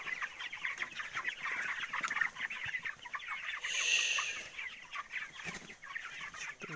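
A flock of broiler chickens clucks nearby in winter, some of them sick, a dense overlapping chorus of soft clucks and murmurs with one sharper, louder call standing out midway.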